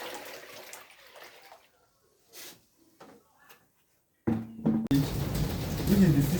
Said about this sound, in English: I will pour it here into the empty container that can contain 30 liters